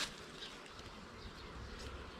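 Honey bees hum steadily around an open hive box of a cut-out colony during an inspection, a faint, continuous buzzing swarm with no speech.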